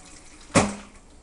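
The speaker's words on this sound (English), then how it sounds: "what we're going to do now is strain everything out, but we want to save that juice" Juice from slow-cooked BBQ and beer pulled pork poured through a strainer into a pan, a single brief splashing pour that swells and fades quickly.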